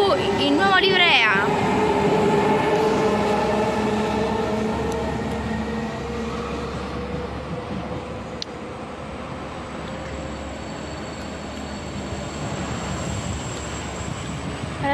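A train moves through Ferentino-Supino railway station in Italy with a loud, steady rumble close by. Brief rising tonal sounds come near the start, then a sustained roar of wheels and carriages continues to the end.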